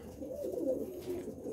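Soft, low pigeons cooing in a breeding loft where most birds sit on eggs, a faint, murmuring coo rising and falling for a moment.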